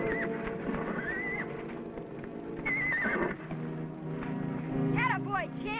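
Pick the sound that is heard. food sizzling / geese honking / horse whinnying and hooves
horse whinnying and hooves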